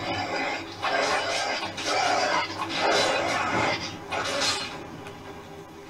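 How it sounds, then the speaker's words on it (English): A rabid dog in the video game Skyrim growls and pants in raspy, rhythmic bursts, close and fairly loud, repeating several times over a low game background. "What is that? I hear it. Oh. Rabid dog, what?"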